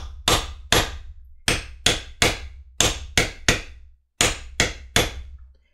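A mallet strikes a backgrounding tool on a leather book cover, a dozen sharp close taps in an uneven rhythm, each ringing briefly, with no talk.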